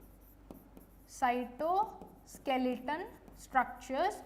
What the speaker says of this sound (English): so here I will write it down